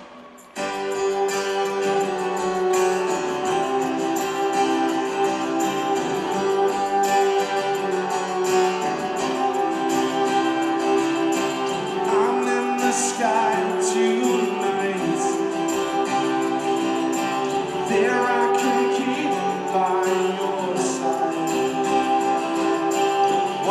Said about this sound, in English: this song is called Next Year, and it sounds like this